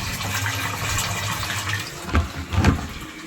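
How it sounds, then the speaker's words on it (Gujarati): Water gushes steadily into a water tank on a house rooftop terrace, a continuous rushing fill that swells with a couple of louder surges near the end; no one speaks. "ટાંકામાં પાણી કરું છું"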